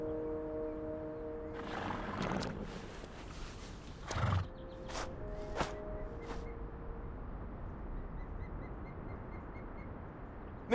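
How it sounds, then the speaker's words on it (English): A horse in the video game Reverse: 1999 gives a clear neigh early on, followed by a few scattered hoof thuds and sharp clops against a quiet background. "Mr. Charon, is this your horse?"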